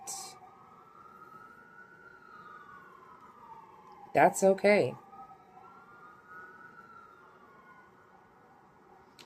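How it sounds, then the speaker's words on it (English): Emergency vehicle sirens wail outside in the distance, a faint rising and falling tone running throughout, briefly interrupted by a short burst of nearby speech. "Sorry about the sirens."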